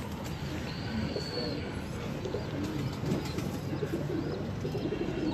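Pigeons coo in low, soft bursts, with faint wing flutters and chirps, close by in a breeder's loft.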